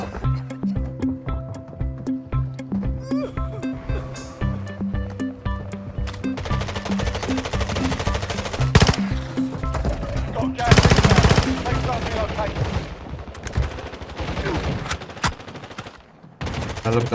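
Repeated bursts of automatic gunfire and single shots in Call of Duty: Warzone Mobile, layered with game sounds and a crackling blast near the middle, with brief speech underneath.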